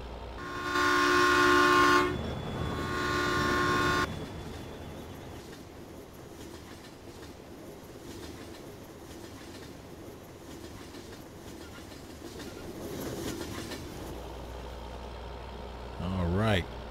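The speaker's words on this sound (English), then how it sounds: "And here comes the train." A train rolls past on a video game map, its horn sounding in long harmonic blasts at the start, then a steady rumbling clatter of wagons for several seconds that fades away, with a brief spoken comment near the end.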